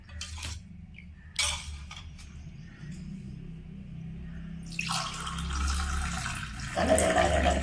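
Ice water is poured into blended pomegranate juice made with milk and sugar, giving a few soft clinks and splashes followed by a steady trickling pour that grows louder, close and without talk.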